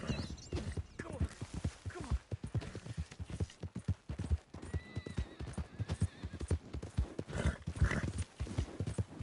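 Hooves pound in a quick galloping rhythm while a horse whinnies and neighs a few times, fairly close, in the video game Red Dead Redemption 2.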